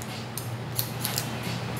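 Hair-cutting scissors working scissor-over-comb during a two-block haircut, a series of sharp metallic snips, close and clear, some in quick pairs, over a quiet background with no talk.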